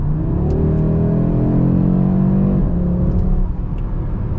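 Interior view of a 2024 Audi RS3 with Unitronic midpipes revving in RS Performance mode: a loud, steady engine drone rises and holds, then eases off near the end with faint pops.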